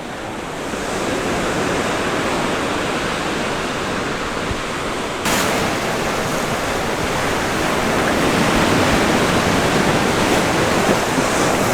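Sea waves wash steadily along a seaside promenade, a continuous broadband roar of surf that swells slightly louder partway through, with no voices.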